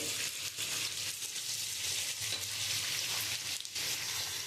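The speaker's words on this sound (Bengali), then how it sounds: "আমি ওই মাছ ভাজার তেলের মধ্যে তেজপাতা আর জিরে" Bay leaves and cumin sizzle in hot oil left over from frying fish, a steady dense crackle with small popping bursts, close and continuous.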